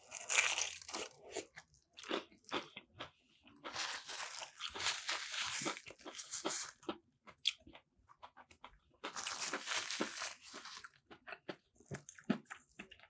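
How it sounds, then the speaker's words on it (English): Church's fried chicken being bitten and chewed, loud close crunches in several bursts separated by short pauses, with no talking over them. "You see that crunch?"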